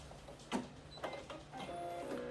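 An embroidery machine runs sped up, stitching a Lacoste logo with a quick mechanical whir and rattling taps, moderately quiet and close, with the motor hum steadying toward the end.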